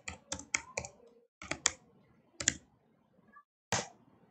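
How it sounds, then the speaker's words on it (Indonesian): Keys clatter on a computer keyboard as a student's name is entered, in short bursts of close, crisp clicks separated by brief pauses, with a final isolated keystroke. "di bagian ini kita ketik nama siswa tersebut"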